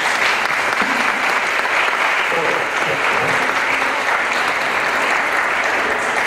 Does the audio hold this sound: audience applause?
yes